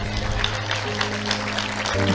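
Steady applause from a seated audience at a Tamil lecture by Prof. Parveen Sultan, broad clapping texture sustained over a low electrical hum, slightly louder near the end.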